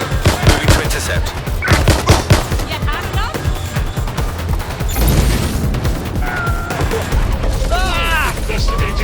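Loud video-game gunfire from Watch Dogs: Legion, with rapid bursts of automatic shots and sharp single cracks rattling close by, mixed with crashes and a burst of game characters speaking in between.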